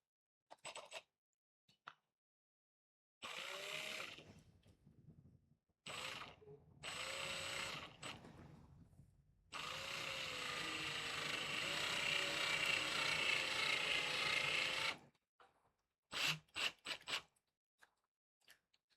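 A screw being driven in by hand with a screwdriver during masonry work, heard as quiet intermittent creaking and ratcheting bursts separated by silences, with one longer stretch of continuous turning.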